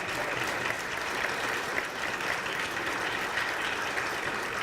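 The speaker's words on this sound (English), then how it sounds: "how about one more giant round of applause for our honorees, our nominees, and our awardees" A large audience at a chamber of commerce awards ceremony applauding the honorees, a dense, continuous wash of clapping heard from a distance, steady throughout.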